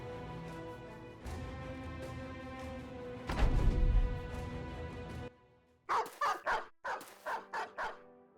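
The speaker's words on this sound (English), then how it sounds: "Dogs are coming in." Dogs bark in a series of sharp, separate yaps near the end of a Battle Brothers battle scene, following a steady hum and a loud rumbling swell of game music and effects; no talking.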